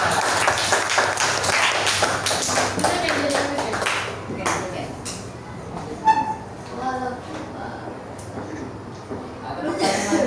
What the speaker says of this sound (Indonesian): boleh tepuk tangan buat.